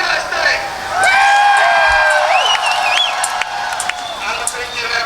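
A race-track crowd at an All Star Front Row Challenge cheers and applauds beneath a close announcer's voice, the roar steady and swelling slightly early on.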